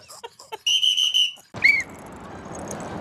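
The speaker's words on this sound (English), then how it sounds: "You get a loud whistle." A referee's whistle at a basketball game gives a loud, shrill blast of almost a second, then a short sharp second blast, followed by a wash of indoor noise.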